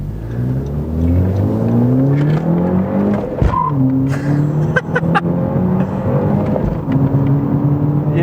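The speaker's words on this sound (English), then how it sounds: "You could do a little heel toe action here, and we're just driving around town" A manual car is driven around town, its engine revving up repeatedly through the gears with rising and falling pitch, loud and close, with short pauses between shifts.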